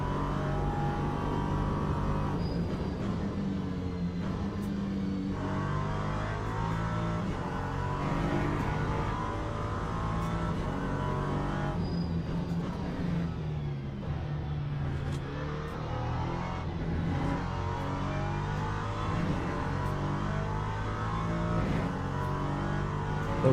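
An LMP3 prototype race car engine in the Le Mans Ultimate sim at Silverstone, a continuous buzzing drone rising and falling through gear shifts, steady and close throughout.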